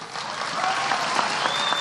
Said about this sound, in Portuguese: eu quero em especial uma salva de palmas para os trabalhadores e trabalhadoras da Novo Nordisk